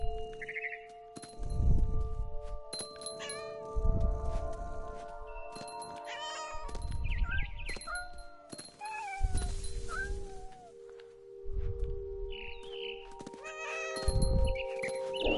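A cat in the video game What Remains of Edith Finch meows repeatedly, with drawn-out, wavering calls and some caterwauling cries over steady background tones and chimes, near and fairly clear.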